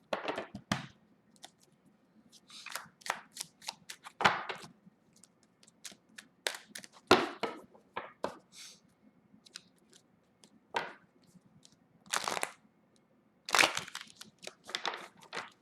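Cards are shuffled by hand for a zodiac card reading: irregular, close bursts of riffling and slapping separated by brief quiet gaps.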